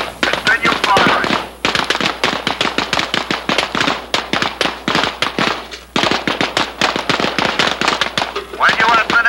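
Police officers fire at a shooting range in rapid, loud, close volleys of sharp gunshots. The volleys break only briefly during reloads, and faint voices can be heard in the background.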